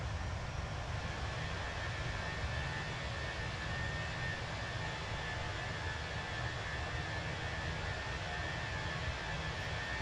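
An airliner departs London Heathrow in Microsoft Flight Simulator 2024, heard as a steady, fairly faint broadband jet engine roar that stays constant without change or talk.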